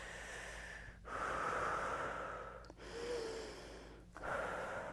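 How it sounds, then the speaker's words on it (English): Slow deep breaths during a yoga pose, three long airy inhales and exhales separated by brief pauses, close and quiet with no talking. "take 2 more breaths here"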